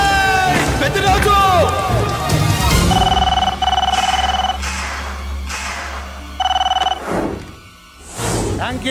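A telephone rings in short repeated bursts over a busy backdrop of voices, music and movement, the tones sounding in separate pulses before the scene quiets.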